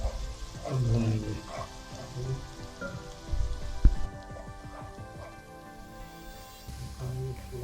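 Spices and chicken sizzle and crackle in hot oil for murgh cholay, a steady frying hiss with scattered pops, under a voice talking throughout.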